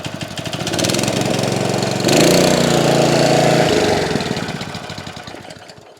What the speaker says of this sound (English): the GX160 driving that Davey pump